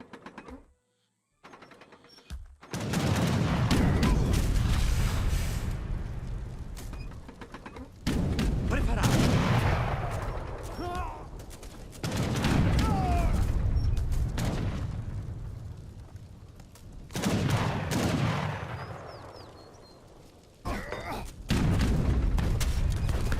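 Cannon blasts and volleys of gunfire from a 4v4 Age of Empires 3 match with India, Portugal and Dutch forces, several loud booming bursts over about twenty seconds with crackling battle noise between them.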